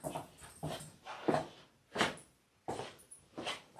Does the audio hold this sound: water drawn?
no